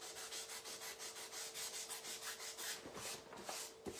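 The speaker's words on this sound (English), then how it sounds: "A little piece of paper again, and you can kind of sand in those areas" Hand sanding of a wooden faux birdhouse sign with a small piece of sandpaper: quiet, rhythmic back-and-forth rubbing strokes, close and faint, with a couple of small knocks near the end.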